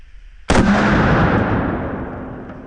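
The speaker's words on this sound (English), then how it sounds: "shooting it out of the Taurus ultralight 44 Magnum revolver" A single loud, close gunshot from a Taurus Ultralight .44 Magnum revolver, a sharp blast followed by a long rolling echo that fades slowly.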